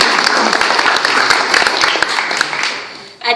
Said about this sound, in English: Can we get a round of applause for